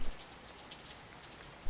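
Light rain falls steadily, a soft, faint, even patter with brief louder spots at the start and end and no voices.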